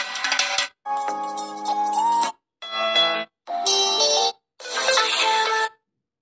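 A sequence of sad mobile phone ringtones plays alone, five distinct melodic snippets separated by brief silences, each a bright tonal tune at moderate loudness.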